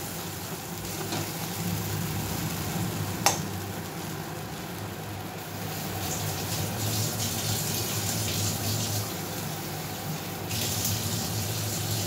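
Rinse water is poured into a pan of paneer masala, a steady running, splashing liquid sound that stays even and close, with one sharp knock partway through.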